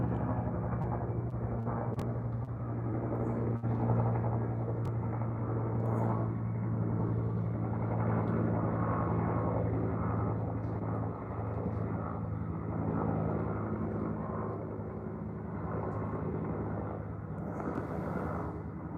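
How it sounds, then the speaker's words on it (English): A helicopter flies overhead while carrying a hanging basket near a fire area, heard as a steady, loud, low rumbling drone that holds for about nineteen seconds without breaks. "There's a helicopter flying over."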